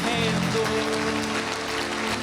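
A church congregation at a Resurrection service claps together in a steady, dense wash of applause, with tonal music or voices running underneath throughout.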